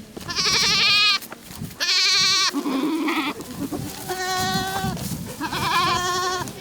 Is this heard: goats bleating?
yes